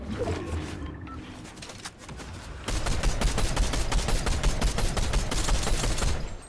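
Rapid bursts of automatic gunfire in a Fortnite match, first sparse and softer, then a loud sustained stream of rattling shots filling the second half.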